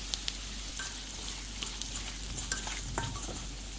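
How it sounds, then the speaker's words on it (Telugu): Baby potatoes fry and sizzle in ginger garlic paste in a pan, with a steady hiss throughout and a few sharp scrapes and clinks as the mixture is stirred. "ఇప్పుడు మనం ఇప్పుడు వేయించుకుంటున్నాం అంటే ఇప్పుడు జింజర్ గార్లిక్ పేస్ట్లో బాగా వేగే కదండి"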